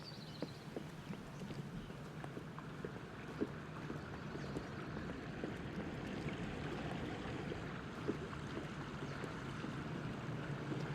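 A boat travels along the wide Putumayo river on the Ecuador–Colombia border, a continuous low motor hum and water wash with occasional knocks and wind, heard quietly and steadily without speech.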